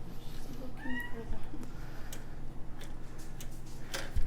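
A house cat meows a few times in a home, the rising calls mid-level against steady low hum and light household background noise.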